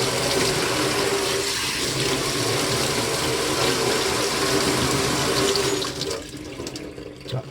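Tap water runs steadily and loudly while dirty bicycle disc brake pads are rinsed under it, with the rushing flow easing slightly at the end.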